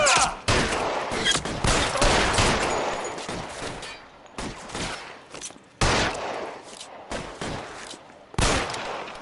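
Bursts of video game gunfire ring out in a tense firefight, with loud rapid volleys repeatedly broken by short gaps across the span, close and dominant.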